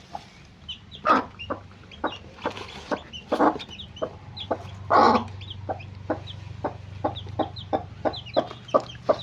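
Baby chicks and hens on a village farm cluck and peep nearby, with a steady run of short, rhythmic calls and a few louder clucks over a low background hum.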